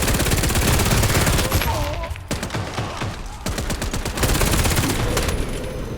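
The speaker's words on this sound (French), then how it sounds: "Mitrailleuse en service!" Loud, continuous machine gun fire in the video game Warface, rapid bursts of shots hammering close by with brief gaps, layered over other battle noise and occasional game voice lines.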